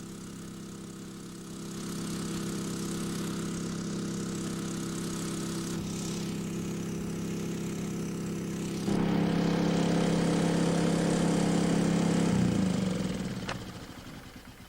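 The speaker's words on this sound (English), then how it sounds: "the most effective way is to use a power fumigator" A small petrol power fumigator engine, fed a little diesel mixed into its fuel to make exhaust smoke, runs steadily for rabbit control. It drones with a constant buzz, grows louder partway through, then winds down near the end.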